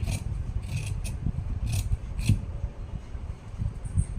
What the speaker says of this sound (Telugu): ఇప్పుడు ఈ మార్కింగ్స్ మీద మనం కటింగ్ చేసేసుకోవాలి